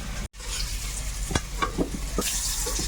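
Food frying in a kadai in Sundarbans outdoor cooking, with a utensil stirring through it: steady close sizzle throughout, punctuated by several scraping stir strokes, a brief dropout near the start.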